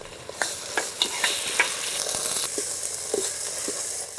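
A spice paste fries with chopped onion and green chilies in hot coconut oil, a constant loud sizzle punctuated by repeated scraping and tapping of a spoon stirring the pan, close up with no talk.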